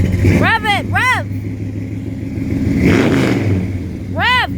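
The engine of a 1966 Chevy panel truck rumbles loudly and steadily, swelling as it is revved, while voices shout excitedly over the noise.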